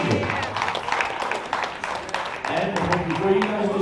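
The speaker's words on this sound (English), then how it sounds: "A big round of applause for Mr. Tony Lee Sr." Audience applause at the USA Powerlifting Equipped Nationals, a steady wash of clapping from a crowd that continues throughout, with talk over it and a short tonal sound near the end.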